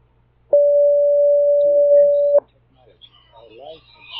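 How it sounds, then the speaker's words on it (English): A phone ringtone: a steady electronic tone sounds for about two seconds, loud and sustained, then cuts off as a voice begins speaking faintly afterward. "sorry, that's my ringtone."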